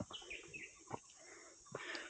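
Faint, high bird chirps sound intermittently against a quiet background on a trek at Rajgad Fort, a few scattered tweets with soft thumps and rustles in between.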